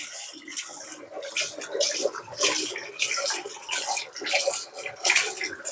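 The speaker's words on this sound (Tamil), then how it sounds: "தண்ணியை சுற்றியில் அடிச்சு விட்டிங்கன்னா க்ளீன் ஆகிடும்" Water sprays in uneven bursts to rinse the spinner drum of an LG semi-automatic washing machine, a close, hissing splash that rises and falls without talk.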